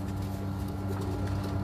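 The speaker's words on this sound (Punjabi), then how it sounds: "ਇਹ ਨੀਲ ਦੁੰਬਿਆਂ 'ਚ ਕਬੂਤਰ ਨੇ" Neel Dumba pigeons cooing in a rooftop loft, low continuous throaty coos close by, layered over a steady droning hum with faint scattered taps.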